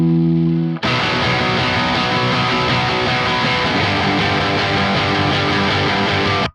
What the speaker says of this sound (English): a mono single guitar take going through my favourite amp sim, which is the Archetype Nolly